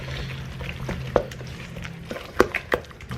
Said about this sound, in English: Just go in with a wooden spoon and mix it around.